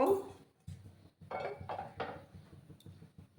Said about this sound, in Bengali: একটা প্যান আমি এবার বসিয়ে দেব